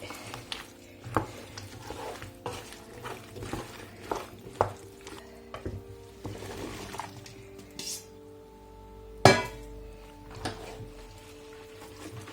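Chopped courgettes and tomatoes being stirred in a pot for curried courgettes, giving irregular close scraping and clattering knocks with soft wet shuffling, and one sharper clank near the end.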